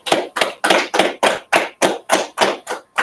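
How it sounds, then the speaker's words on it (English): Rhythmic hand clapping at a gathering of the Israelite School of Universal Practical Knowledge, about a dozen sharp, evenly spaced claps close by and loud, with no talking over them. "All right, let's clap it up"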